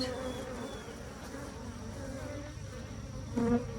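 Honeybees buzz around an open hive during an inspection. The faint, steady droning hum continues throughout, with one bee passing louder and closer near the end.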